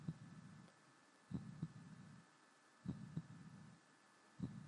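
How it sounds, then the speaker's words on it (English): A slow heartbeat sound effect from the Breath of Fire 3 video game thumps in paired low beats about every one and a half seconds, over a faint steady hum, with no talk. "It is kind of cool how they have the heartbeat."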